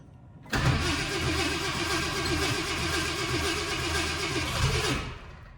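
A 1966 Ford Thunderbird with a carburetor cranks briefly and then fires, settling into a loud, steady, close running engine that holds for several seconds before cutting off.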